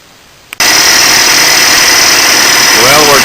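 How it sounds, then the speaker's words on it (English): A wood lathe spins a glued-up maple blank at slow speed, making a steady, loud continuous whir with a sharp onset after a brief quiet start, a constant droning tone through to the end. "I am running the lathe at a fairly slow speed until the work becomes perfectly cylindrical"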